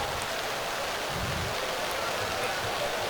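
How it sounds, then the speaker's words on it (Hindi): Heavy rain pouring steadily at an outdoor gathering, a loud dense hiss of falling water that fills the whole moment without letup, with no voices standing out above it. "बारिश बहुत तेज हो गई है"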